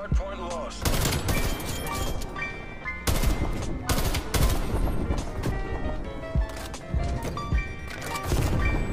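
Automatic gunfire in the Call of Duty Cold War multiplayer game, with rapid bursts and sharp blasts repeating across the span amid loud in-game noise and occasional sound effects.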